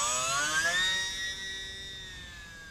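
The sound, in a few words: small lightweight R/C airplane flying in light wind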